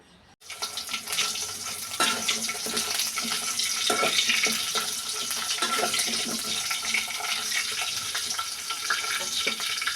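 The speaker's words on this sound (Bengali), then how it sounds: "ঢেঁড়স সবসময় কাটার আগে ভালোভাবে ধুয়ে নিতে হয় বা ধুয়ে কাটতে হয়" A kitchen tap runs steadily while okra is washed before cutting, a loud continuous hiss of flowing water with small splashes and shifts as the pods are rinsed, no talk.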